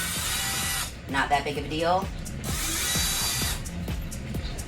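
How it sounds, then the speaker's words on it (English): A power drill whirs in short bursts, backing screws out of a mirror, with someone talking between and over the runs. "I think I'm gonna use my drill. Okay, pretty easy. I'm just gonna take these screws out."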